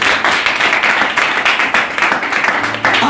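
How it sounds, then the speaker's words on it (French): A church congregation claps and cheers loudly to acclaim the Lord, dense applause sustained throughout with a steady, even roar of many hands. "acclame très fortement le Seigneur"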